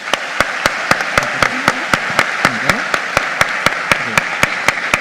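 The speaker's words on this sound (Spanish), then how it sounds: "con un aplauso por adelantado" An audience at a university conference event claps steadily, a sustained wash of applause with sharp regular claps close by, under faint murmuring.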